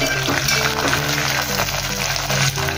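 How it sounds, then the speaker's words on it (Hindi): Curry leaves frying and being stirred in a pan, heard as a loud, dense sizzle under steady background music, close, with no clear separate stirring strokes. "मसाले डालने के पहले हम इसमें कड़ी पत्ता डाल देंगे, अच्छे से मिक्स करेंगे"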